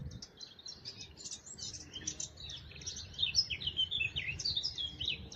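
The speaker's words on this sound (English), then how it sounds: "That's a blackcap." A blackcap sings in the early morning at RSPB Rainham Marshes, its bright, rapid chirping phrases repeating steadily and fairly close over a soft low outdoor rumble, with no voices.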